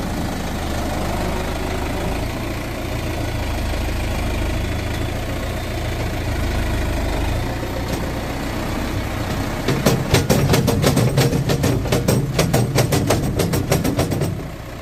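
The engine of a tractor fitted with a front loader runs steadily at close range with a low, even drone, then a rapid rhythmic knocking and clattering joins in as it works, with no voices.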